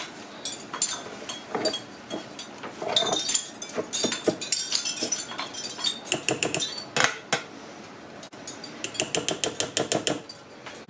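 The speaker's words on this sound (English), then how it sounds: "I'm just going to give that a little stir" A spoon clinks and scrapes against a pot as coconut milk is stirred into rice pudding, rapid metallic taps and rattling strokes in close bursts with short pauses.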